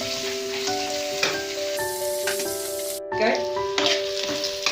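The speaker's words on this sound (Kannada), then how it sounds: "ಸಣ್ಣ ಫ್ರೈ ಆಗಲಿ" Flattened rice (poha) for avalakki chitranna frying in a pan gives a steady, close sizzle with occasional stirring, over soft sustained tonal notes, then a brief break and a fresh burst of hissing.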